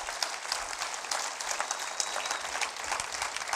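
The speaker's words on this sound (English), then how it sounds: "Let's give these ladies a hand clap of appreciation" A church congregation applauds two women, a steady wash of many hands clapping heard from a little distance at moderate loudness, with no voices standing out.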